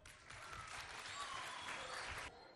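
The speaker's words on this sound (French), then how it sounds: "Acclamez très fort pour eux." An audience at a school competition bursts into loud, sustained applause for the students, the clapping building quickly, holding steady for about two seconds, then cutting off.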